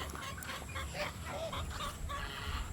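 Chickens on a farm cluck and chatter in short overlapping calls, moderately close over a steady outdoor background hiss.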